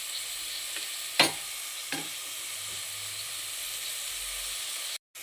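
Chopped tomatoes softening in a hot pan for paneer biryani, a steady soft sizzle and hiss throughout, with a couple of brief scrape-and-stir clacks near the start and no talk.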